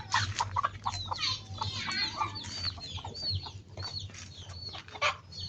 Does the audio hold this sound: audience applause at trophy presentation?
no